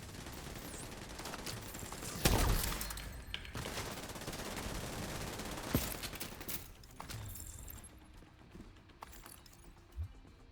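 Bursts of rapid gunfire in a video game, loud and rattling over the first several seconds with a few heavier hits, then thinning out to scattered shots and quieter game ambience near the end, no speech.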